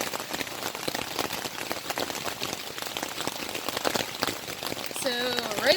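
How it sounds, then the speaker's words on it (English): Steady rain falls on a camping tent, a dense close patter of drops that continues without pause and grows a little louder toward the end. "It's raining."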